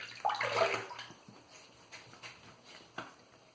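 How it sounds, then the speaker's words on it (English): Water splashes as hands wet a face before a menthol shave, a loud burst of splashing in the first second, then fading to faint drips and small handling sounds. "let me wet my face to start off really quick"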